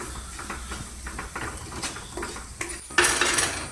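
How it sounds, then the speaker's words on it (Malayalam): Fish curry being stirred with curry leaves in a pan, giving light scraping and clinking of a utensil against metal, with a louder burst of sizzle and rattle near the end. "വേപ്പില ഇട്ട് കൊടുക്കാം വീണ്ടും പയ്യെ ഇളക്കി കൊടുക്കാം"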